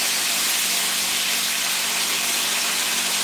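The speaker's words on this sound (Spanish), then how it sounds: "Pues mira, las estoy friendo abiertas." Mojarra fish, split open, frying in hot oil: a loud, steady, close sizzle that hisses without a break and with no voices over it.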